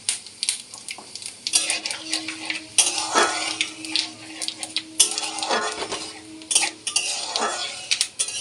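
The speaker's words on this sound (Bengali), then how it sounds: "এখন তেলটার একটু গরম হলে আমি এর ভিতর দিয়ে দেব পাঁচফোড়ন" Panch phoron and dry red chillies dropped into hot oil for a Bengali mixed vegetable curry, soft sizzling under repeated scraping and clinking of a spoon against the pan, close by with intermittent metallic knocks.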